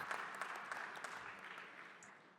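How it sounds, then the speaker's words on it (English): Applause for a panelist at a panel discussion: brief, fairly faint clapping from an audience, a soft continuous patter with a few sharper claps. "A round of applause for our second panelist, Ashoka Satish Parakh."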